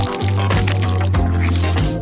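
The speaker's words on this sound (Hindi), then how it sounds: "अब फिलिंग को अंदर डालेंगे।" Filling being pushed into a hole cut in food, soft wet squishing and dripping sounds with a few distinct pulses, close and alone without talk.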